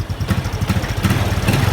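A Honda Supra X 125 motorcycle engine idles steadily nearby with a fast, even low-pitched putter and exhaust pulse, with no talk.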